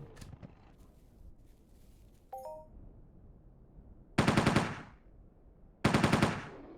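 Gunfire while hunting small yog on Monria in the game Entropia Universe: two loud bursts of rapid automatic shots, each ringing out briefly, after a short electronic chime and quieter ambient sounds.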